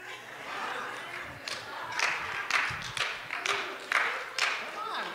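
An audience at a church sermon gives a short, scattered patter of clapping that rises in uneven bursts, moderately faint, with a voice speaking over it.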